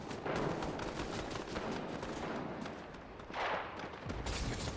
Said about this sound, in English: They're shooting the rocks.